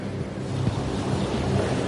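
Huge ocean waves driven by typhoon winds pound against the concrete buildings of Hashima island, giving a continuous loud roar of surf and wind buffeting, dense and unbroken.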